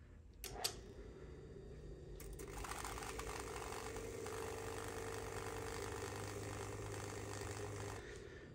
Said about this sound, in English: So here's how I get a nice true round on my little sander.